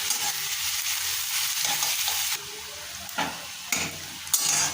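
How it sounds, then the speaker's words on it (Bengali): Onion frying lightly in oil for a masala prawn curry gives a steady close sizzle, with a few louder scrapes and stirs toward the end. "হালকা করে ভাজবো, ডিপ ফ্রাই হবে না, হালকা করে ভাজবো।"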